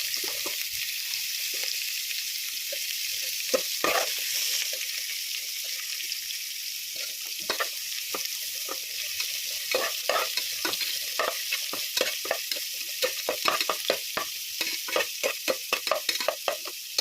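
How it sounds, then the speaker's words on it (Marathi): Finely chopped onion and garlic frying in a pan for biryani, a continuous bright sizzle broken by frequent scraping stirs that quicken toward the end, close and alone without voices. "यामध्ये कांदा टाकून घेणार आहोत बारीक कापलेला. छान असं फ्राय करून घेणार आहोत"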